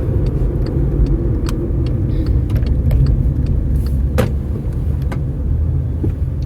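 A car passes on the road while overtaking, heard as a loud, steady engine and tire rumble from inside a vehicle, with a few faint clicks and rattles over the drone.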